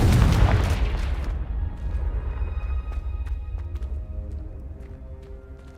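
The Confringo spell in the video game Hogwarts Legacy bursts into a loud, booming explosion that rumbles and slowly fades, with faint ringing tones lingering afterward.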